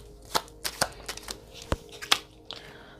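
Tarot cards shuffled and drawn during a reading, a run of crisp riffling slaps and short flicks spaced irregularly, moderately close, with no talking over them.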